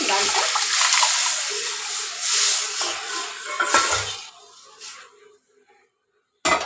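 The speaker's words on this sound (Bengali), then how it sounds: "এবার খানিকটা জল দিয়ে দিলাম" Water poured into a pan of cooking pea lentil dal, a loud splashing and hissing gush that gradually thins and fades, then a brief clunk at the end.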